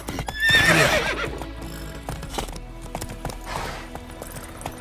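Roach, the horse in The Witcher 3, whinnies loudly near the start, then hooves clip-clop along at a steady pace while the game's ambience plays underneath.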